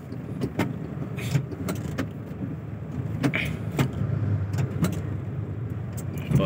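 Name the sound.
car traffic on a road in Dasmariñas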